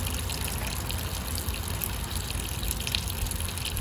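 Water flowing down a model stream and washing sediment from its banks, a continuous close gushing and trickling rush with no voices.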